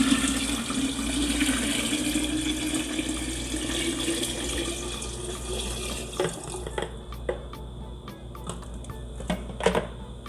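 Water pours steadily into a glass cocktail of gin and juice for several seconds, a continuous splashing trickle, then a few light clinks and taps as the pour ends.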